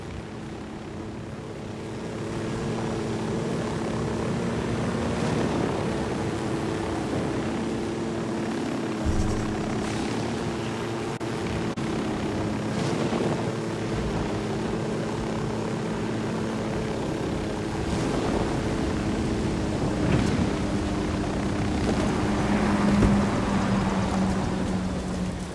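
Drone flying over a cartel area in Ghost Recon Wildlands, a continuous whirring rotor hum with a steady tonal drone and occasional soft thumps, sustained and fairly loud, no speech.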